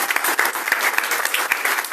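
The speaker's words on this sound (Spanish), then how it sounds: "Ese aplauso es con poca gana, menos que forzado, como que alguien se lo obligó" Congregation applause in a church service, a dense, loud burst of many hands clapping together, continuous and close for a brief moment.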